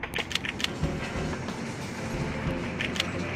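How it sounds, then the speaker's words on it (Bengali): A big train starting off in the video game Conduct THIS!, a steady rumbling roll with rhythmic clacking and a few sharp metallic clicks, close and continuous without any talking. "বড় ট্রেনটা এখানে থেকে যায় আর আবার স্টার্ট হয়"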